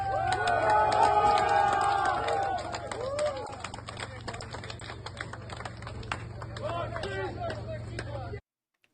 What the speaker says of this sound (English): the crowd just stood around and was just cheering the Wagner